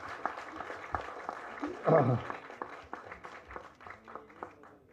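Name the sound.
audience clapping at movie launch ceremony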